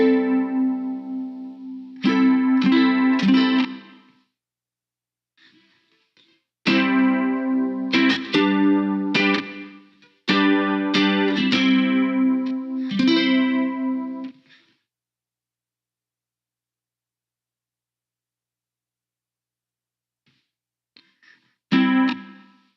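Electric guitar run through distortion and effects plays rock and roll chord bursts in three loud passages separated by short gaps, with a brief final strum near the end.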